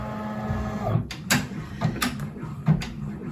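A Brother Entrepreneur embroidery machine sews the first step of an in-the-hoop hotpad with navy blue thread, making a close mechanical whir broken by a steady series of soft clacks and thumps.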